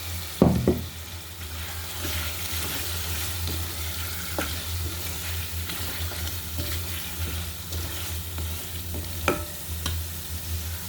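Shing fish (stinging catfish) go into a hot pan of oil and fry with a steady, moderate sizzle, with a sharp splash at the start and occasional spatula scrapes and taps through the frying.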